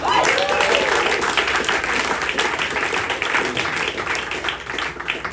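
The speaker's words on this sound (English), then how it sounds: "Give a round of applause for 58" A comedy club audience gives a full round of applause, many hands clapping in a steady, dense burst that stays loud and sustained throughout.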